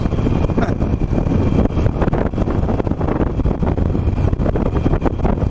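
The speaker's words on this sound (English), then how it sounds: "It's always windy down here" Steady, loud wind buffeting a microphone while riding a 17-year-old Harley-Davidson Nightster on an empty road in fourth gear, a dense low roar with the engine buried beneath it and no voices.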